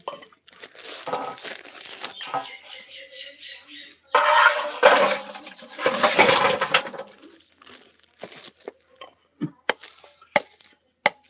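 A knife chops food in a home kitchen with irregular, crisp taps and crunchy bursts, some dense flurries and scattered single cuts, while someone talks nearby.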